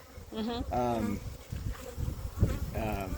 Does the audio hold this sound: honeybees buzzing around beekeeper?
yes